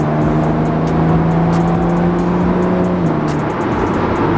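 A BMW Z4 E89 roadster fitted with carbon fiber parts runs with a steady, loud engine drone and a rising turbo spool whine, close and continuous with no talking.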